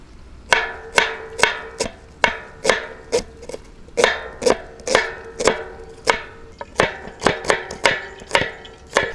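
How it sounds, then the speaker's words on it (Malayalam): A knife chops onions finely on a board for banana bonda, about two dozen sharp, evenly spaced knocks in a steady rhythm, close and clear with no talking. "നമുക്ക് ഉള്ളിയൊക്കെ ഒന്ന് ചെറുതായിട്ട് കട്ട് ചെയ്തെടുക്കാം"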